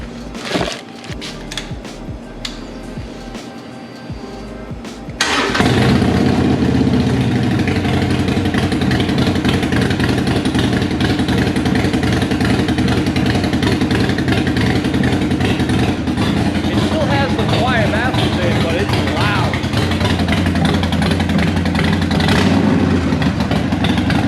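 Harley-Davidson Roadster fitted with Vance and Hines Short Shots exhaust, cranking and then firing into a loud, steady idle that carries on close and unbroken for the rest of the clip.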